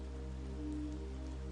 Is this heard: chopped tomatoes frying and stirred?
no